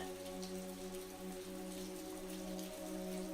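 Raindrops fall outside a cozy cottage on a rainy evening, a soft continuous patter over a steady low hum, faint and even throughout with no voices.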